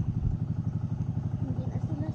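A motorized boat's engine runs steadily nearby, a rapid, even chugging pulse throughout.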